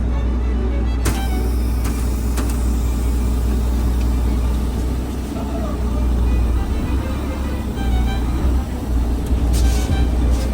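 A Class A truck cab during an in-cab pre-trip brake test, engine rumbling loudly and steadily as the rig creeps at about five miles an hour, with faint clicks and a brief hiss near the end.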